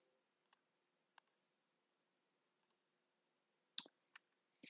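A computer mouse clicks a few times, sharp and isolated, in near silence; two faint clicks come first and a louder cluster follows near the end.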